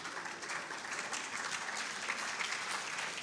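Audience at an HIV service delivery integration summit opening applauding Professor Kimayo, a continuous, fairly faint and even spread of many hands clapping with no speech over it.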